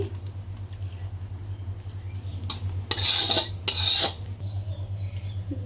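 A spoon scrapes a pot as cooked korma is poured and served into a dish, two short scraping bursts over a low steady background hum.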